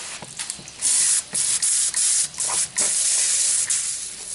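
Short bursts of water spray misting a bonsai being readied for moss, several close, loud hissy pulses in an uneven rhythm with brief gaps between them.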